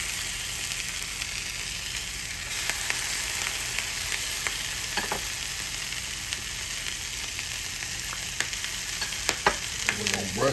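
Leftover corned beef fries in a buttered skillet with a steady, close sizzle throughout, broken by a few light utensil taps and scrapes near the end.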